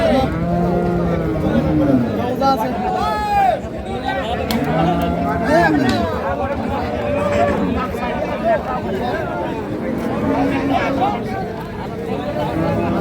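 Cattle and a calf at a village cattle market where dairy cows are sold. Repeated deep moos and bellows ring out close by over a constant background of crowd chatter and people talking.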